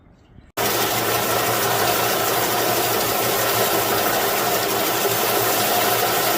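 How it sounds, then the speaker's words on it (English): A belt sander flattens the sides of a wooden wedge for rehanging a maul or axe head, switching on abruptly and then running as a steady, loud, even whir with a rough, rasping grind throughout. "we'll take this over on the belt sander and we'll hold it against there and we'll sand it right down to that line"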